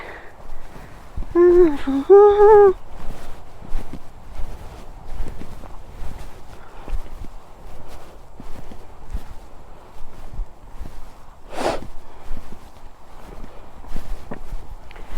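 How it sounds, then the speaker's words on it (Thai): Footsteps walking along a grass path in Iceland, a steady rhythm of soft close thuds and swishes continuing throughout, with a brief voice early on. "เราก็เดินตามนี่แหละ"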